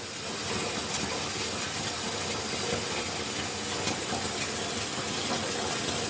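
Steady rushing water pours and churns without pause, a broad hissing flow like a tank filling, close and continuous throughout.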